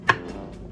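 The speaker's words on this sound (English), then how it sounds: "Now I'm just chopping off just the tops of the eggplants." A kitchen knife slices the tops off eggplants for Korean side dishes, making one sharp, close chop on a board followed by faint handling noise.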